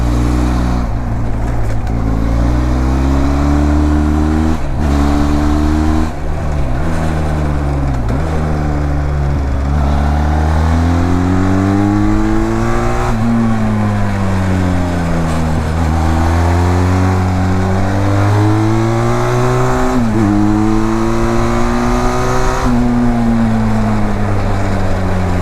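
A Benelli TRK 502X motorcycle engine revs loudly and steadily on a mountain road, its pitch rising and falling through repeated throttle changes and gear shifts, with strong wind and vibration noise and no talking.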